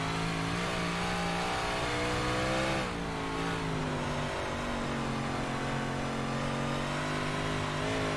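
A Big Block race car engine at Bristol in the iRacing sim roars loudly and continuously on throttle, its pitch shifting as revs dip and climb, dense and up front with no talk.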